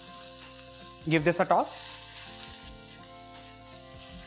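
Crushed ginger, garlic and green chili sizzle in hot oil for a vegetable soup, a sudden burst of frying crackle that settles into a soft steady sizzle, with a person speaking briefly.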